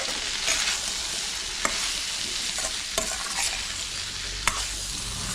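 Ground masala paste stirred into chickpeas in a pan for masala sundal: a continuous close sizzle with sharp spoon scrapes and knocks against the pan every second or so.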